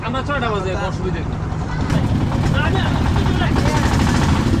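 Trawler boat engine on a crossing near Sylhet's Sadapathor at the India-Bangladesh border, a loud steady mechanical drone with water noise, growing heavier midway, with voices talking over it.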